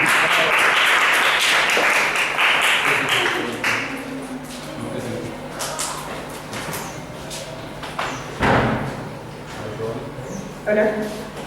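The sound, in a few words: audience applause in church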